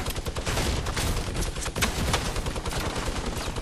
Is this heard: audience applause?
no